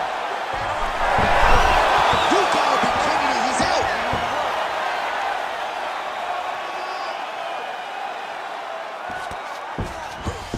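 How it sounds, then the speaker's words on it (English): Arena crowd at an MMA championship fight between Dricus Du Plessis and Khamzat Chimaev roars loudly, then settles into a sustained noisy hum, with faint voices underneath. "huge pop from the crowd as the fighters get back up to their feet"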